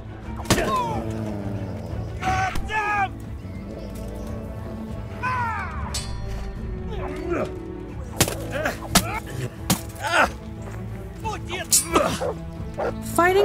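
Repeated barks and yelps from a dog fighting in the game Kingdom Come Deliverance, close and loud in irregular bursts, mixed with combat thumps and clashes under occasional speech.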